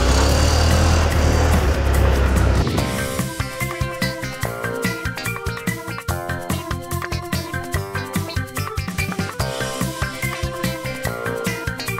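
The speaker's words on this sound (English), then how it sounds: "Turn your key to the right, and it'll go ahead and start." An ATV engine starts up and drives off, a rough burst of cranking noise giving way to a steady, pulsing motor that chugs rhythmically and fairly close for the rest of the stretch, with no talking.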